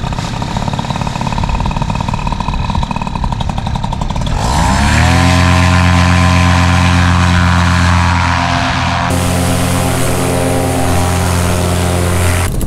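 A SkyTap paramotor engine on a flat top roars at high throttle, drops, then surges back up to a loud, steady full-throttle drone with strong harmonics, running alone without talk.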